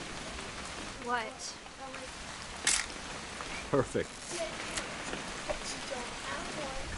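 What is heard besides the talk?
rain in a video game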